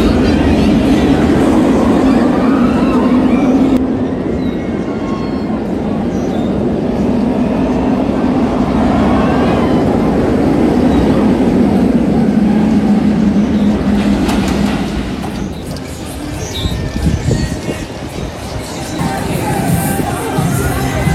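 An electric roller coaster at Cedar Point amusement park rumbles and rattles along its track without a break for about twenty seconds, a loud, steady roar with clattering wheels and a faint crowd in the background.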